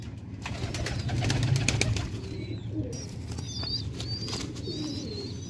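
Sialkoti pigeons coo with low, repeated throaty calls close by, alongside occasional brief flutters and faint high chirps in the background.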